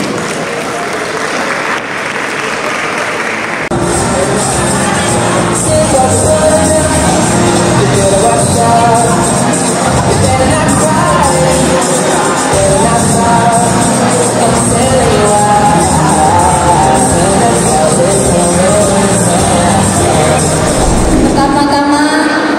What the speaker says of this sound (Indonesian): Mari beri tepuk tangan yang meriah.